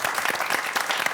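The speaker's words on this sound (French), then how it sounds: "On peut l'applaudir" A short burst of audience applause at an open-day event, steady close clapping from a modest crowd lasting about a second.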